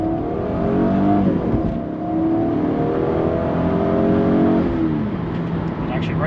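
A 1994 Toyota Supra RZ with a twin-turbocharged 2JZ-GTE engine accelerates hard from inside the cabin, engine note climbing through gears with a brief dip at a shift, loud and continuous.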